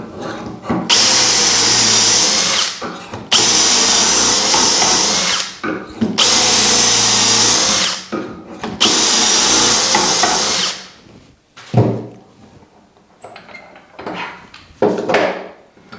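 A loud power drill bores dowel holes in wood with a Dowelmax jig in four long sustained runs, each a few seconds, followed by shorter clattering bursts and brief whirs near the end.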